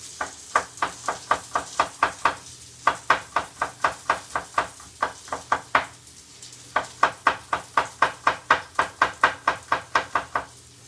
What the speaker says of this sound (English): we're just thinly slicing this garlic up